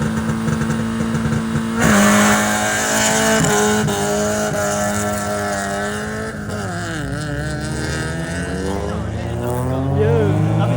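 A Nissan Skyline GTR revs and drives past at a night car meet in Kuantan, its engine note rising and falling with shifting gears amid background crowd noise and other cars, moderately loud throughout.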